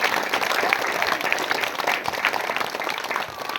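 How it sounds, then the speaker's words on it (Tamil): Audience at a school annual day clapping and applauding together, a dense, steady wash of hands that holds for several seconds before easing slightly at the end. "ஓங்கி கைதட்டி பாராட்டுகிறோம்"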